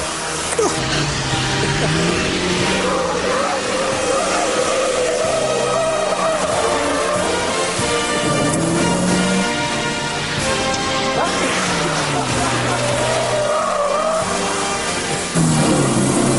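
A Lada car is driven hard and loudly while under test by Lotus, its engine note climbing and falling again and again as it revs through the gears, with occasional knocks and thumps from the body.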